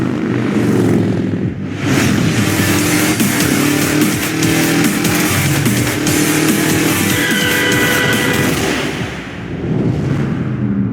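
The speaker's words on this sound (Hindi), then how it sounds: "देखिए कितनी मस्त बाइक का साउंड है, सुनिए।" Loud motorcycle engine in the audio game Cyclepath revving hard, rising and falling through several throttle bursts, close and continuous with no talking.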